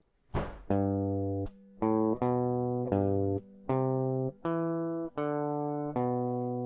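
Clean guitar plucks a slow two-bar melody, about eight distinct notes, each ringing briefly before the next, close and fairly quiet with no talking.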